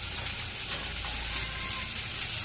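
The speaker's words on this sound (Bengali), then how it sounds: "আর আমি ততক্ষণ এগুলো ভাজতে থাকি একে একে" Mixed vegetables, carrot among them, fry in a pan with a steady crackling sizzle close by, even in level with faint stirring beneath.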